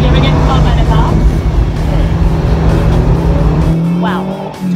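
A car driven fast in a racing game, its engine note holding a steady loud drone with some tire squeal, while a voice talks over it throughout.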